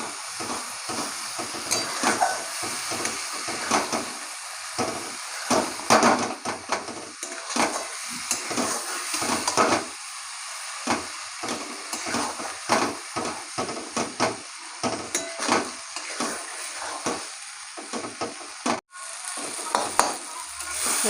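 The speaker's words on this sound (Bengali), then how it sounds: "এই মশলার সঙ্গে এখন মাংসগুলো ভালো করে কষাবো।" Mutton sizzles in hot oil with spices while it is sautéed and stirred, a steady frying hiss broken by repeated scraping of a utensil against the pan, close and moderately loud.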